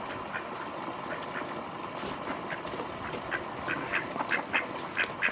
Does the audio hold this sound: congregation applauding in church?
no